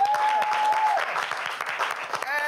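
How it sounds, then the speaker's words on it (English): A studio audience on a children's educational quiz show gives a short round of applause, brisk clapping lasting a couple of seconds with a brief electronic tone over the start. "Let's give them a round of applause,"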